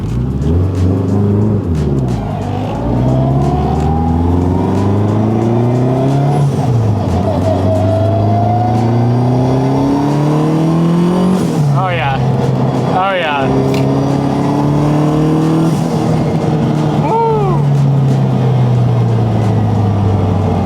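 Turbocharged Subaru STI running a little rich and pulling hard through straight-cut gears, a loud sustained engine drone with rising pitch sweeps and turbo whistle, while people talk and exclaim over it.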